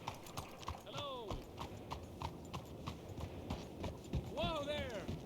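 Horse hooves clip-clop steadily in the Red Dead video game while a horse whinnies twice, with someone speaking over the rhythmic hoofbeats.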